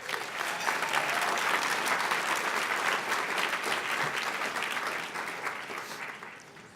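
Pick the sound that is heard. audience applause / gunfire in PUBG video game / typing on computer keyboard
audience applause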